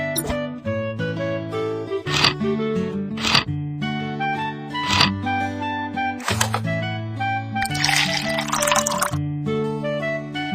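Water poured in a cartoon scene as a bird doctor gives a sick rabbit a drink, heard as liquid filling and dripping sounds layered over a steady, bright musical backing with a splashier burst near the end.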